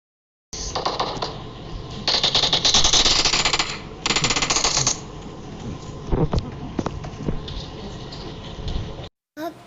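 Rapid automatic gunfire bursts from a PUBG firefight, loud and dense in close repeated volleys with brief pauses, followed by scattered single shots and clatter.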